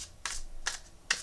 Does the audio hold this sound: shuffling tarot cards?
yes